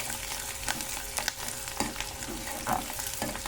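Mustard seeds, cumin and onion fry in hot oil in a pan, giving a continuous close sizzle broken by occasional stirring scrapes and clinks.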